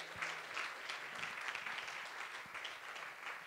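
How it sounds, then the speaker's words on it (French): Faint, distant applause from an audience at a fundraising event for the Salle Promutuel Assurance hall, an even patter of clapping that holds steady throughout. "Je vous demande d'applaudir les gens de ProMutuelle"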